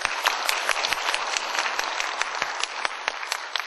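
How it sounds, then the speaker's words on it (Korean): Warm applause for the candidates and panel at a Haenam county mayoral election debate, a dense, fairly loud burst of clapping sustained evenly across the hall. "후보자와 패널 여러분께 뜨거운 박수 부탁드립니다"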